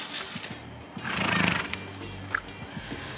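A horse whinnies once, a loud rising and falling neigh of about a second, followed by a few soft snorts and thumps nearby, with no talking.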